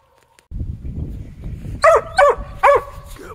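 A cur hunting dog barks at a raccoon treed in the woods, three loud, close barks over rustling after a moment of near silence.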